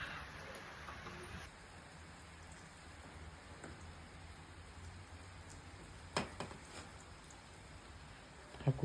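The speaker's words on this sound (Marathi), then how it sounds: "पाऊस बघा कसा आहे." Rain falls steadily as a soft, even hiss, fairly faint and continuous, with a few brief louder knocks near the end.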